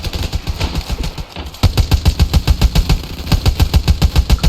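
Sustained machine-gun fire in Ravenfield, a World War I trench battle, with rapid rhythmic bursts running nearly throughout, loud and close, briefly dipping before resuming at full intensity.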